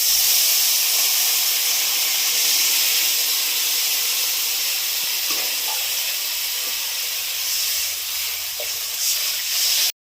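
Water hits a hot pan of Bengali aar fish curry with eggplant, giving a loud, continuous steamy hiss and sizzle that holds for about ten seconds.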